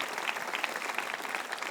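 Congregation applause at a church sermon, a short dense burst of many hands clapping, even and steady throughout the brief moment.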